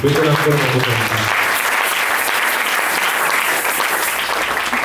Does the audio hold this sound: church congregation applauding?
yes